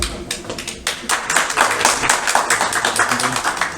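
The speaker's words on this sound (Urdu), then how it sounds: "کافی تالیاں بجی ہیں" Clapping from a crowd at a certificate ceremony for new Islamabad Bar Association members, a sustained ripple of many hands close by that builds and holds for several seconds with a low murmur underneath.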